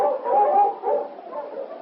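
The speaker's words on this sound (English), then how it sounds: "Suddenly, he barked eagerly, ran a short distance, then stopped and looked back, still barking" A husky dog barks eagerly in a radio drama scene, a run of close, overlapping yips and barks with a brief dip midway before the barking resumes.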